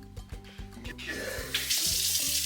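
A kitchen sink sprayer on a gentle shower setting runs water over a bird of paradise plant, starting with a few short clunks and spurts before settling into a steady hissing spray close by.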